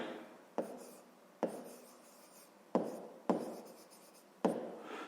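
A pen scratches across paper in a quiet room, several short written strokes each beginning with a sharp tap and fading, spaced about a second apart with no voice.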